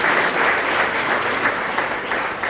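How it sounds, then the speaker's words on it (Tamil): Audience clapping for a station worker at a Tamil Christian program, steady dense applause sustained throughout, fairly loud and close with no talk. "நாம் அத்தனை பேரும் அவருக்கு ஒரு பலத்த கைத்தட்டல் கொடுப்பாங்க"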